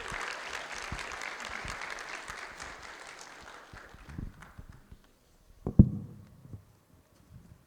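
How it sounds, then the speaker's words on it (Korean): A church youth service congregation applauds, with steady clapping that fades after a few seconds into scattered thuds and small room noises. "우리 박수로 환영하겠습니다."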